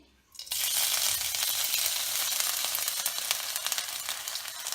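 Crushed ginger and garlic hit hot coconut oil with a sudden loud sizzle that settles into a steady, crackling fry close by.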